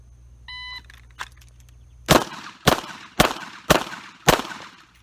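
A Ruger LCRx .38 Special revolver with a 3-inch barrel fires five loud, sharp shots at a steady pace about half a second apart, preceded by faint beeps and a small click, with no talk.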